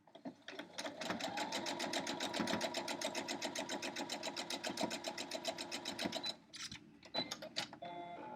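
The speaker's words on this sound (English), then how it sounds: "So I'm going to sew this on here." A sewing machine stitching a quilt-as-you-go star block runs in a fast, steady, close rattling burst for several seconds, then slows to a few short stops and restarts.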